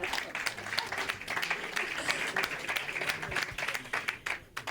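Live audience applauding at a comedy show, a lively burst of clapping with scattered sharp claps and crowd noise, moderately loud and sustained until it thins at the end.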